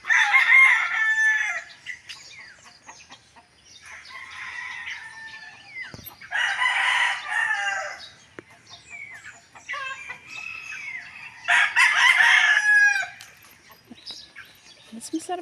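Chickens cluck and a rooster crows repeatedly in the Philippine countryside in early morning, with several loud crowing bursts spaced a few seconds apart and quieter clucking between them.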